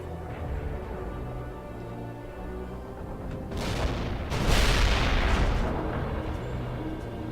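Battle gunfire and heavy booms in World in Conflict during the fight for Fort Teller, a steady rumbling barrage that swells into a louder burst of blasts midway, then settles back into continuous distant fire.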